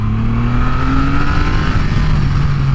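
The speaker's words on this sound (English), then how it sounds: "So here's the bike. You just snap this start button and it runs." A Triumph Rocket 2500cc motorcycle engine running steadily and loud up close, a deep continuous rumble with the pitch rising slightly as the revs climb, with no talk.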